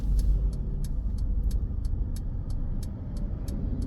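An oncoming car passes on a Huddersfield road, a loud steady engine and tyre rumble heard from inside a stopped learner car, with a regular ticking, likely the indicator, clicking throughout.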